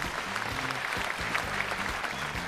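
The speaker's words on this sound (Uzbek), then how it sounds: "Qarsanglar, olqishlab turamiz o'rtoqlar." Studio audience clapping on an Uzbek game show, a dense steady burst of applause lasting a couple of seconds at an even level.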